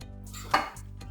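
Salted grated zucchini mixed in a bowl for a zucchini roll, one short clink of utensil against dish amid quiet background hum.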